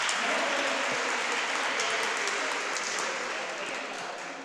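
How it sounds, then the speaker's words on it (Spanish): Patients in a room applaud during an online talk on lupus, a soft, continuous patter of many hands that slowly fades, heard faintly at a distance. "Te están aplaudiendo, no sé si lo escuchas."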